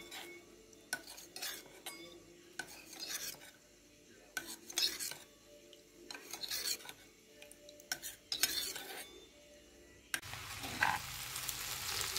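Chicken pieces for chili chicken fry quietly in a pan, a low sizzle overlaid with repeated scraping stirs and clattering utensil knocks, ending in a louder burst of frying noise.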